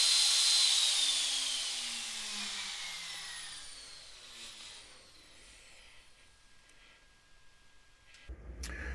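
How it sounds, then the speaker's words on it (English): CNC router spindle spinning down, a loud high whine that glides downward and fades over several seconds, ending in a short clunk. "if I press the spindle button, it'll turn the spindle on"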